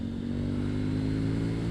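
A KTM Duke 790 motorcycle engine holds a steady, strong drone under load as it pulls, close and loud for under two seconds, with no voices.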